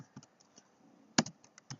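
Laptop keyboard typing a command: sparse, close keystrokes clicking in an uneven rhythm, with one louder key press partway through and no voices.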